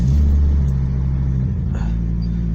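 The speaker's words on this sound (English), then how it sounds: "oh, I just love the sound of these cars." An idling car engine rumbles deeply and steadily close by, with a slight dip and change in tone partway through. The car is having resistors fitted for LED bulbs, and no one speaks.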